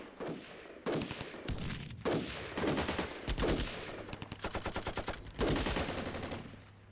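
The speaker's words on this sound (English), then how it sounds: "AA gun taking fire, yes," Loud, close bursts of automatic gunfire from the video game Armored Brigade II, rapid rattling volleys aimed at an anti-aircraft gun, repeating in several long strings with short gaps between them.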